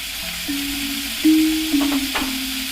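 Asafoetida dropped into hot oil while frying chickpeas in a pan, a steady close sizzle with a few brief scraping stirs and a sharp clink partway through.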